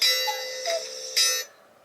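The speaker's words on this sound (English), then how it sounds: "There's my alarm." A phone alarm rings briefly: bright, bell-like chiming tones sound in a few short pulses, clear and close, then cut off into silence.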